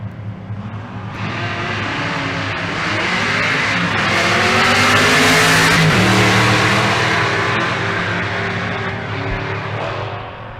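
Drag race between a GTO and a second-generation 1979 Camaro, engines building into a loud sustained roar that swells through the middle and fades slightly toward the end, with no talk over it.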